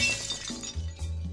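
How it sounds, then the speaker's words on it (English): Glass window shattering while breaking into a building in the burglary game Klepto: a sharp crash of breaking glass followed by a couple of tinkling, clinking fragments settling, close and alone. "you could always break down windows and glass doors like this"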